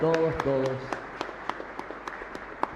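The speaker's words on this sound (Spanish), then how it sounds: "Fuerte aplauso entonces para todos" A congregation in a chapel of the Virgen del Carmen claps during a novena, starting with a voice and then sparse, separate handclaps ringing out in the room.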